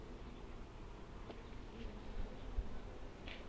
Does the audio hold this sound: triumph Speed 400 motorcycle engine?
no